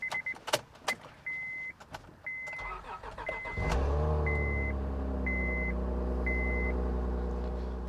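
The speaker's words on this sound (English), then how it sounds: "So I think it's ready to start this thing up and see how it sounds with the new spark plugs." A 2006 Honda Odyssey van with new spark plugs, its door chime beeping repeatedly before the engine cranks and starts, then settles into a steady low idle rumble close by, with some faint talk early on.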